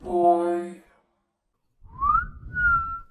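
A creature mimicking a whistle to call a dog, slow rising whistled notes after a brief pause, following an opening harmonic tone, with low rumbling underneath, close and fairly loud.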